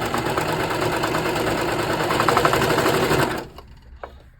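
A sewing machine runs steadily for about three seconds, stitching the crotch seam of a pair of kids' shorts with a fast, even motor whir, then stops, followed by a few faint handling clicks.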